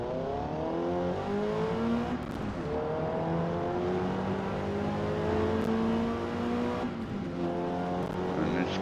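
A Mazda MX-5 racing at the Nürburgring in Forza Motorsport, its engine revving and whining up through the gears, loud and sustained, with other race cars droning around it.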